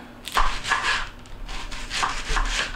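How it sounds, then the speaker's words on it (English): Onion being cut with a knife for quinoa burgers, giving a few rough, scraping chops in short bursts, close and fairly quiet, with no talking. "now I'm going to cut the onion and throw that in there also"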